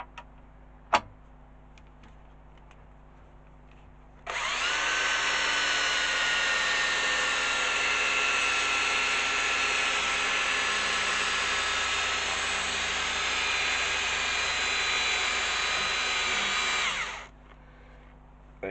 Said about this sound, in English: So I'll show you a bit of this buffing